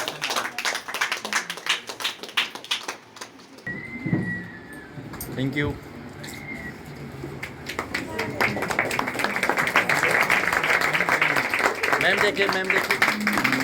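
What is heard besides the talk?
audience clapping and applause for a teacher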